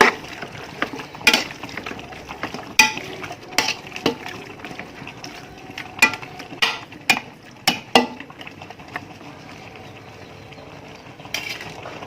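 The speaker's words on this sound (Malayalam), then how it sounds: "അതുകൂടി ഒന്ന് ചേർത്ത് ഇത് നന്നായിട്ടൊന്ന് മിക്സ് ചെയ്ത് കൊടുക്കാം." A spoon or ladle mixes tomato into chicken biryani in a metal pot, producing irregular scraping and clanking strokes, moderately close, with a quieter stretch near the end.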